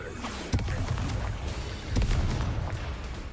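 Incendio fire spell cast in Hogwarts Legacy, heard as booming, blasting bursts near the start and again around the two-second mark, standing out from a dense wash of loud game noise.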